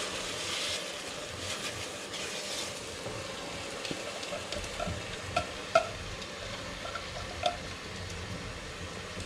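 Onions and tomatoes frying in a hot pan on a high flame for palak paneer, a faint steady sizzle with a few soft scattered pops and spoon clicks.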